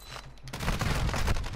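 Rapid bursts of assault-rifle fire from an STB 556 in Warzone 2, loud and close, starting with a few brief shots and then a sustained rattling volley with no talk.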